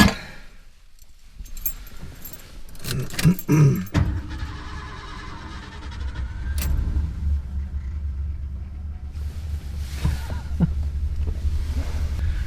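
A car moving off on a trip in the far north, mixing knocks and clicks as it gets going with a low, steady rumble of engine and road that lasts through the later part, close and with no talk.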